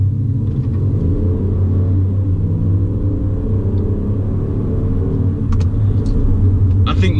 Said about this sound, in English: The stock exhaust doesn't sound too bad. It's a little bit of a deep tone out of it